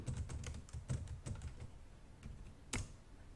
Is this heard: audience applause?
no